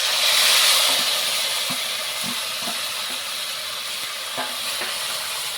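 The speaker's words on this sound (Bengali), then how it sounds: "আর এখন আমি দিয়ে দেবো এখানে শুকনো লঙ্কা বাটা, রসুন বাটা, পেঁয়াজ বাটা আর হলুদ গুঁড়া।" Dried chili paste, garlic paste, onion paste and turmeric fry with shidol dried fish, a steady close sizzle and hiss with soft intermittent stirring scrapes of a spoon in the pan.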